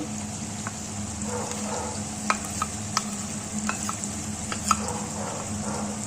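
Ginger-garlic paste sizzles steadily in a hot pan for Kolkata-style chicken biryani, with a constant frying hiss and a few sharp clicks of a spoon stirring against the pan.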